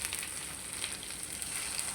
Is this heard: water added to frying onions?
yes